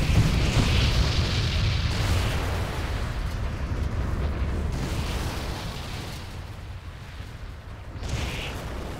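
Rolling booms from Iron Leg attacks in the Arcane Odyssey video game merge into a loud, sustained wall of blasts, easing slightly midway before another burst near the end, and no one speaks.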